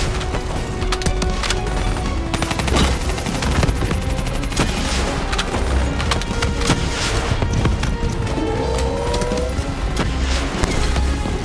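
Dense, continuous gunfire and explosions from the Call of Duty Black Ops 3 video game fill the scene with loud rattling bursts and impacts over a layered battle din, without pause.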